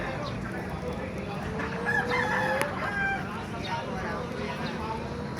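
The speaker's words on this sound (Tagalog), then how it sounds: "Mga manok." Roosters crow at a chicken market in Bocaue, Bulacan, one drawn-out crow rising above a busy background of clucking fowl, murmuring voices and general market bustle.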